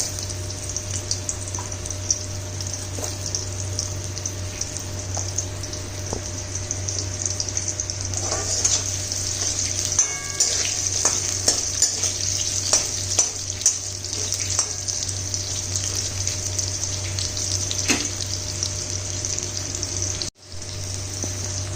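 Carrot pieces frying in a pan, a steady close sizzle with crackling spatters that runs the whole time, with a brief drop near the end.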